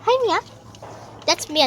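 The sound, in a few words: dog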